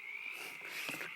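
Frog croaking loudly, a close, continuous buzzing trill that holds steady throughout over faint room noise.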